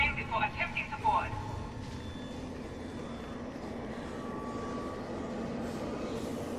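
A train rolls along in the video game Zombie Army Trilogy, giving a steady, continuous rumble that holds for the whole stretch, with a brief voice near the start.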